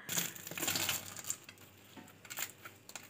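Crisp crunching of fried chicken snacks, several close, brittle bites and crackles in quick bursts, with no talking.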